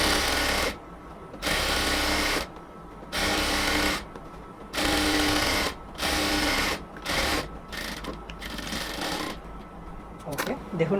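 A sewing machine stitches the side seam of a cotton kamij in repeated bursts of rapid whirring, stopping and starting about eight times, with brief quiet gaps and short final runs.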